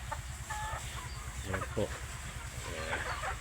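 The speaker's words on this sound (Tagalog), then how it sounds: "Ito po yung aming mga manok na kinulong" Caged chickens in a mixed backyard flock cluck in bursts, close by, over a steady low hum, with someone talking briefly.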